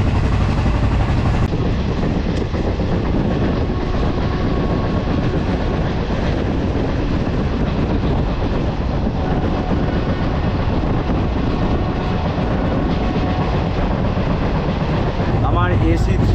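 A Doon Express passenger train runs along the tracks, a steady loud rumble with rattling carriage noise throughout, heard from on board with a brief clattering change near the end.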